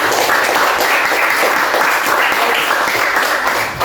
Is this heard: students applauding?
yes